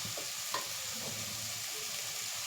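Chicken seasoned with salt and chilli fries in a pan, a steady dense sizzle with a few faint stirring knocks, close and even throughout.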